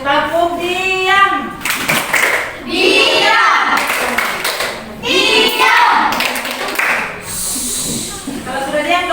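Children in an Indonesian primary classroom perform the 'tepuk diam' clapping routine, chanting together loudly in sung phrases broken up by bursts of rhythmic group clapping.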